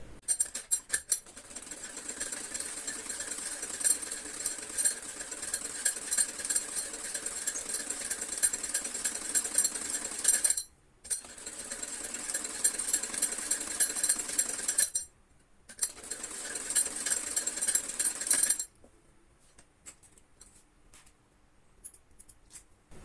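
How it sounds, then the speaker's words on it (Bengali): A sewing machine stitches fabric frills for a baby frock in fast, continuous runs of rattling clatter. Two short pauses break the stitching before it stops, leaving quiet room noise. "নামিয়ে একটা সেলাই দিয়ে নিব। সেলাই দিলে এই কুচি কুচি হয়ে আসবে।"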